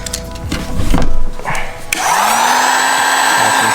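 A heat gun blows steadily on vinyl wrap being applied to a motorcycle, coming in after about two seconds of handling noise as a close, constant whooshing hiss with a rising motor whine that holds to the end.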